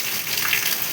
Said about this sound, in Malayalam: ഞങ്ങളുടെ നാട്ടിലെ മഴ കണ്ട, വേനൽ മഴ